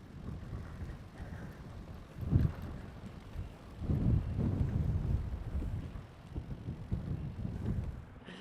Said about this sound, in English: And I will be out of this wind.